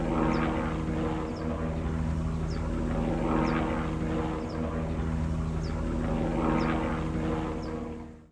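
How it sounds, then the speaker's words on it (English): A news helicopter drones steadily overhead, its engine and rotor hum holding constant before fading out at the end, over Los Angeles, California. "this is a news helicopter"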